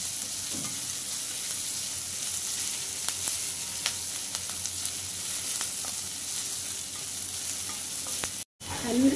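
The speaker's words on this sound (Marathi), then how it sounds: "कांदा थोडा नरम करूया. एकदम लाल नाही करायचं." Onion softens over a low flame in a pan for wild vegetable kachori, giving a steady close sizzle broken by occasional scrapes of a spoon stirring, with a brief rattle near the end.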